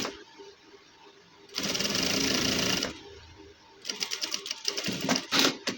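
A sewing machine stitches the edge of a gents suit, with a steady mechanical whir in one run and a second, more rattling burst after a pause, close and fairly loud.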